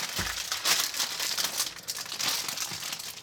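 Crinkling and tearing of packaging as a thin refrigerated pie crust is unwrapped, close up, with steady plastic rustles and a few sharper crumples.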